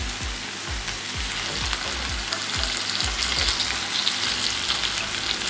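Mutton chops frying on a tawa in masala, a dense crackling sizzle with repeated low thuds of stirring or turning, steady and close with no talking.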